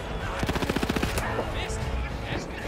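Submachine gun fire in a video game: one rapid burst of about a dozen close, evenly spaced shots, then scattered battle noise with faint voices underneath.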